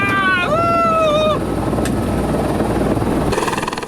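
A helicopter flies along Australia's Great Ocean Road coast, its rotor and engine a loud, steady drone throughout, with a brief higher tonal sound near the start.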